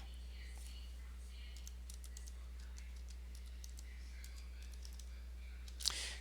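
Faint, scattered keystroke clicks from a computer keyboard as a command is typed to install software on a Manjaro Linux computer, quiet and close against a steady low hum, with one slightly louder click near the end.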